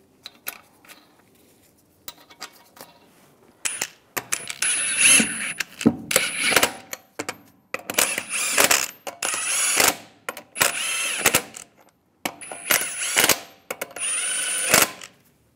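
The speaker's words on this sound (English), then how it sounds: "Now I'll put the wheel up. Put the lug nuts on." Lug nuts go onto a wheel of a 2007-2013 Chevy Silverado 1500 with a power tool, which fires in short, sharp bursts separated by pauses and quiet metallic handling, close by.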